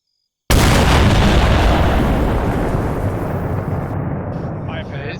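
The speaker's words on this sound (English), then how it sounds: "Stand by, flashbang going over the top whenever you're ready, Hodges." A flashbang grenade in Arma 3 goes off with a sudden loud blast after a short silence, then a long roaring ringing wash that slowly fades over several seconds.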